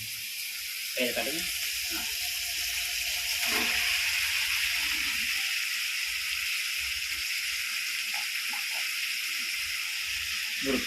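Steady, loud sizzling of eggplant frying in hot oil, with a few clinks and faint voices in the background throughout.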